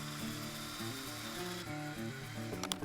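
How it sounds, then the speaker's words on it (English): A drill bores holes in wood for a homemade swing ball set, its whine rising and falling near and steady throughout with faint rubbing of the bit in the timber. "First hole, that's your first ever hole that you drilled."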